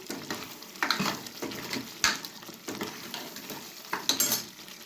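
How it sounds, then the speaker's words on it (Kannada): Masala for mutton sambar frying in a pan, with a close, steady sizzle and repeated scraping stirs at an uneven rhythm and no voices. "ಮಸಾಲೆ ಎಲ್ಲ ಚೆನ್ನಾಗಿ ಫ್ರೈ ಆಗಿದೆ"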